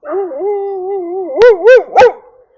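A dog out in the woods gives a long, wavering howl, then three sharp barks in quick succession, close and loud, with no talk over it.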